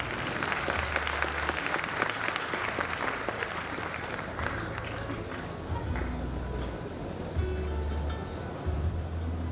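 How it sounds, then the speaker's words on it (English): A crowd at a college initiation ceremony gives a warm, sustained round of applause, a dense, even wash of clapping that holds steady throughout, with some low background rumble. "Let us join our hands together and give a warm round of applause as we begin our sacred ceremony."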